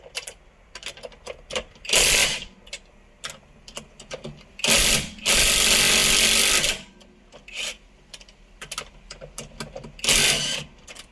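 A battery-powered wrench loosens the wheel nuts on a car during a tyre change, firing several loud, buzzing bursts of a few seconds each, separated by quieter clicks and handling noises.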